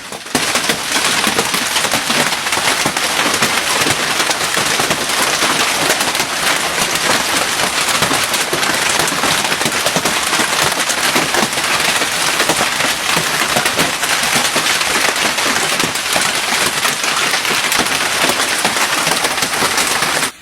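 Large hail up to two inches across pelts roofs and surfaces during a Texas hailstorm, a dense, steady, loud clatter of countless impacts with no pauses and no voices.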